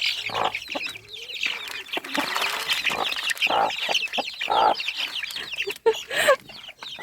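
A cluster of month-old chicks peeps and squabbles noisily up close, overlapping chirps and clucks with pecking and scuffling as they feed on homemade grower feed.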